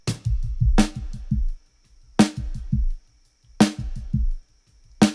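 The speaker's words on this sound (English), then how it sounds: "The snare sounds like this." Three sharp snare hits spaced about a second and a half apart, each trailed by a quick run of darker, fading echo repeats.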